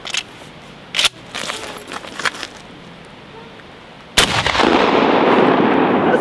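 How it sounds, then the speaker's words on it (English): Two sharp shotgun blasts of high-velocity steel shot fired at computers, the first loud and brief early on, the second a heavy boom followed by a long crackling, rattling tail of debris. "now for some high velocity steel shot"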